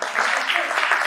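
Audience clapping at a Jain religious discourse by Aryika Swasti Bhushan Mata Ji: a short, dense burst of many hands applauding, fairly loud and even throughout the brief moment.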